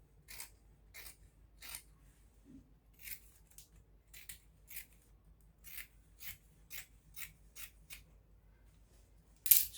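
Scissors snip through ankara fabric while a sleeve is cut out for a gown, giving a steady series of about fifteen crisp, close cuts spaced roughly half a second apart with quiet gaps between them.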